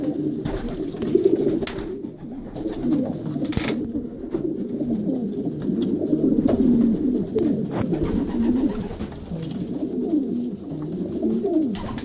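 Pigeons coo repeatedly in low, throaty rolling calls, continuous and close throughout, with occasional flutters and knocks in the background.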